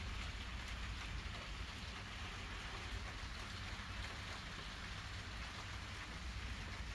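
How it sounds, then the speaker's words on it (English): Steady rain pours down without pause, a dense, even hiss of drops hitting surfaces nearby, loud and unbroken with no voices. "So you like rain, do you?"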